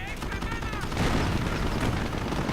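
Bursts of MG42 machine gun fire and other gunfire in a WWII strategy video game, a dense rattling barrage under continuous commentary.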